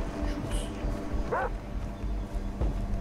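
A dog in the Far Cry 3 video game gives a single short bark near the middle, set against steady game ambience while someone talks.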